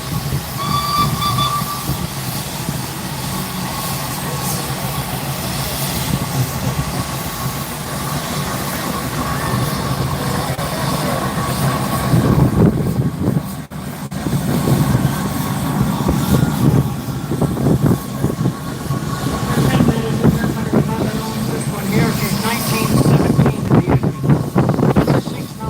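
A 140-year-old Marshall steam traction engine runs at an outdoor steam rally in Stradbally, hissing and chuffing loudly throughout, with a steam whistle sounding, crowd noise around it, and a voice talking faintly.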